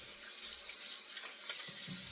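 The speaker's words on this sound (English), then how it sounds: "So we're gonna wet the face really well" Hot water runs from a tap in a steady hiss at a bathroom sink for wetting the face before a shave, close and continuous.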